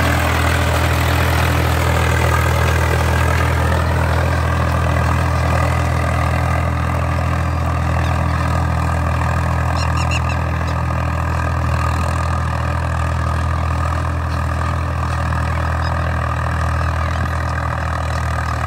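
A Swaraj 855 FE tractor pulls a harrow through hard, baked soil, its diesel engine producing a loud, constant low rumble with a steady throbbing hum that never lets up.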